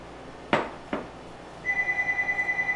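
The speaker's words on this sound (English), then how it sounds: "Phone's ringing." A telephone rings in a home kitchen, a steady repeating electronic trill that follows two sharp knocks or clicks, fairly close and with no talking.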